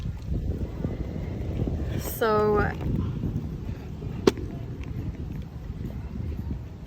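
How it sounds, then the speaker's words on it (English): Wind picks up outdoors at night in Boston after a 90-degree day, a steady broadband rushing and buffeting across the microphone, with a brief whinnying squeal and a sharp tap partway through and a voice speaking briefly. "this is the first time the wind kicks up"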